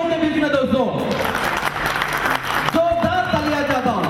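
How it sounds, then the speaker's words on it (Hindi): Audience applause at an Enmart stage event, a steady wash of clapping lasting throughout with a crowd murmur and a voice over it. "जोरदार तालियां चाहता"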